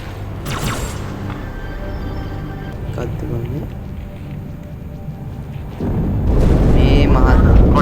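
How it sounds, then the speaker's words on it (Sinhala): A spaceship blows up in the Halo 2 video game, a broad rumbling blast that swells and grows louder toward the end over busy game sounds and voices. "අම්මයි තව යානේ පුපුරනවානේ බං"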